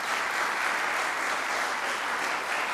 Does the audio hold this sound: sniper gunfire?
no